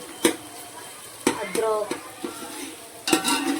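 A paste of coconut, green chilli and ginger, with tomato, hits hot oil for tempering, giving sharp sizzling bursts and stirring scrapes in the pan. A voice speaks briefly amid the frying.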